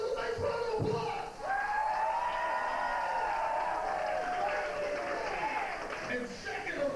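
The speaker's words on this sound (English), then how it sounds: "Give yourselves a nice round of applause" A wrestling crowd at a back-alley brawl event applauds and cheers steadily, a broad wash of clapping with whoops, while a voice carries over the noise.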